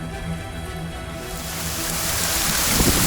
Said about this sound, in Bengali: এখন বৃষ্টির তীব্রতা মনে হয় বাড়তেছে।